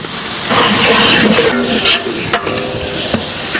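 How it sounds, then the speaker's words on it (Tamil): Ginger garlic paste sautéing in a pan for mutton dum biryani in a village kitchen, a steady close frying sizzle with stirring scrapes running throughout. "இஞ்சி பூண்டு நல்லா வதங்கிடுச்சு"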